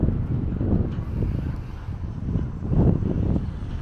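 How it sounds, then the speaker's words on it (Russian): Strong wind buffets the microphone on an exposed hilltop, a continuous low rumbling roar that swells and gusts, loudest near the end, with no other sounds standing out. "дует сильный ветер"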